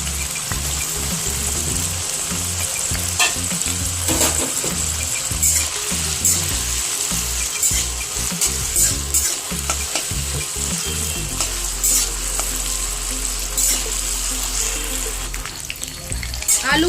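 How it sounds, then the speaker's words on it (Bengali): Chopped potatoes frying in hot oil in a pan, a continuous close sizzle with scattered stirring clinks and scrapes, no voices. "আলুগুলো ভাজা হচ্ছে"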